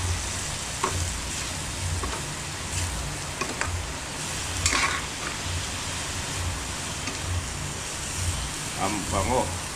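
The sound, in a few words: stirring mung beans and vegetables frying in a pan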